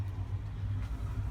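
A 1966 Ford F100 with its original 390 V8 and four-speed idles steadily without throttle, a close, low, even rumble holding alone for a brief moment.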